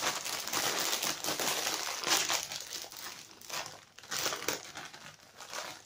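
A 250 gram bag of Mackies of Scotland mature cheddar and onion potato crisps crinkles and crackles close up, in irregular bursts of rustling plastic with brief pauses between handlings.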